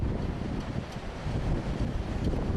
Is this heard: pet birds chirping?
no